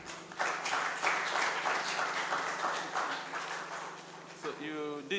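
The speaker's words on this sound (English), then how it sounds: "Another round of applause." Audience applause at an academic panel session on housing research, a steady broadband patter of many hands clapping for about four seconds before tapering off as a voice begins near the end.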